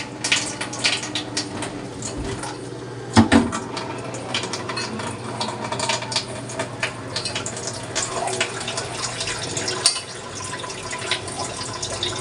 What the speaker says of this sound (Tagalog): Grabe yung tulo ng tubig naman ito.